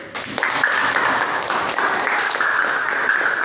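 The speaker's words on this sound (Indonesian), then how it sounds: "Tepuk tangan untuk kita hari ini." A classroom full of students gives sustained applause, steady clapping lasting several seconds with no pauses.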